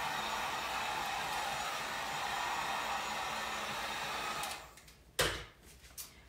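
A heat tool warming a WoodUBend furniture mould for a pantry door makeover blows a steady, close whooshing hiss of air that cuts off near the end, followed by a couple of brief knocks.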